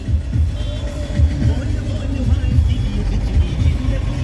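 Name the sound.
street traffic, cars passing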